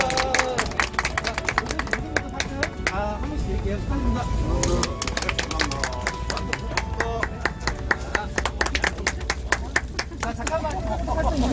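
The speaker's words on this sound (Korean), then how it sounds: "박수 한번 보내주세요" A crowd claps for the prize winners at a cuttlefish fishing contest award ceremony, sharp overlapping claps rising and falling throughout while someone talks over them and voices murmur nearby.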